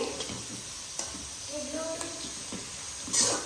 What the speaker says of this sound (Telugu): అది తాలింపు మంచి మగ్గింది